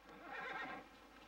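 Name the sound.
horses neighing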